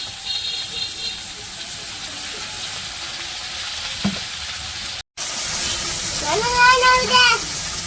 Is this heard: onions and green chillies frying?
yes